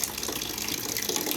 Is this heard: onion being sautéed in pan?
no